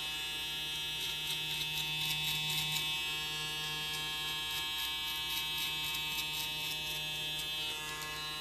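BaBylissPRO hair clippers buzz close up while cutting coarse curly hair, a steady electric hum with faint crisp snipping textures running throughout.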